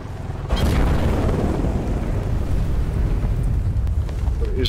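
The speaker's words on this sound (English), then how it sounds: "What is that hovering chopper that goes down?" A hovering video-game helicopter gives a loud, steady, roaring wash of rotor and turbine noise. It starts abruptly and holds without a break, with no voices over it.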